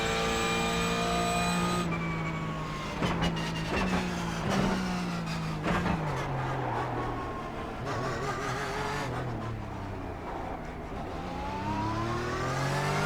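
A Porsche 911 GT3 Cup race car in iRacing revs hard through the gears, its engine note climbing and then dropping sharply at several quick paddle shifts before climbing again, loud and continuous, with no talking.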